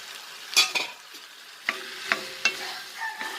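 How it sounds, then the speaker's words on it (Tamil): Tomato and potato sauté in a hot pan for egg curry: a low sizzle runs under repeated scraping and stirring clacks of a spoon against the pan, irregular and close, with no talking. "தக்காளி உருளைக்கிழங்கு நல்லா வதங்கட்டும்"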